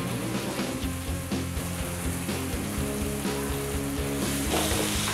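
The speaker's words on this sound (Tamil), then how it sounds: "தக்காளி கொஞ்சம் வதங்கிடட்டும்." Steady, close sizzling and crackling of chopped small tomatoes frying in a hot pan, a continuous hiss with small pops throughout.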